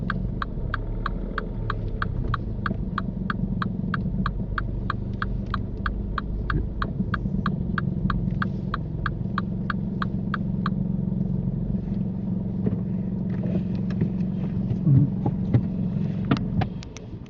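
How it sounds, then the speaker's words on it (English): A car idles and creeps forward into a parking bay during a driving test, a low steady engine hum with a regular ticking indicator in the first part, fading to quieter rumble and light rustle. "Just drive it forward into a bay."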